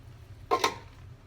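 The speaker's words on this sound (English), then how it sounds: "Pour it right back out." Ceramic glaze poured from a measuring cup back into a bucket gives a single brief splashing gush, fairly close and alone, ending quickly in a short trickle.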